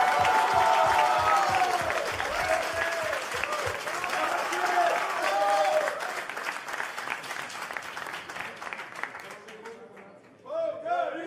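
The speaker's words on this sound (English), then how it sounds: "let's get a big round of applause for our runner-up" A poker tournament crowd at a final table in Barcelona gives loud, sustained applause for the runner-up, dense clapping that fades toward the end, with a voice speaking over it.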